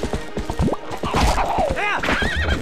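A horse in The Legend of Zelda: Twilight Princess gives a loud, clear whinny near the end, with clip-clop hooves and game sounds beneath.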